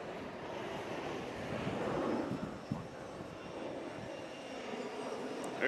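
Air France jet airliner at JFK International Airport, a steady broadband engine roar that swells slightly midway and holds throughout, distant and continuous with no talk over it.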